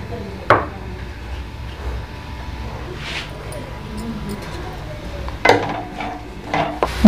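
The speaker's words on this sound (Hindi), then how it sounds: "इसमें अब प्याज ऐड कर देंगे और इसको गोल्डन ब्राउन कर लेंगे" Spoon clanks against a pan as onions are stirred in hot oil for a home-style daal qeema, with a few sharp metallic knocks over a faint, steady background sizzle.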